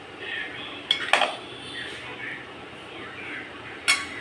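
Spinach paste is worked into cooked rice by hand in a metal vessel, giving a soft, low rustle broken by a few sharp metallic clinks near the start and end.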